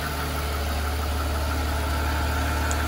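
A 2004 Mercedes-Benz S600 with a 5.5-liter V12 idles steadily, a smooth continuous low hum with a faint high whine, heard up close with no talking.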